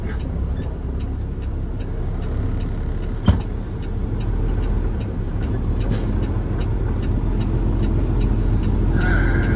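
A truck hauling a car-carrier trailer reverses into a delivery spot at night in Brunswick, Georgia, its diesel engine a steady low rumble inside the cab, with a sharp click partway and a brief higher whir near the end.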